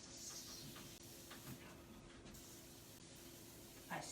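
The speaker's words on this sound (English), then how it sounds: "I spray it and get it nice and wet" Spray starch is misted onto fabric before pressing, heard as a soft, faint, continuous hiss with a few short breaks, close by and with no talking.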